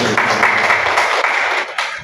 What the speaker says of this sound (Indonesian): Tepuk tangan sekali lagi buat kita.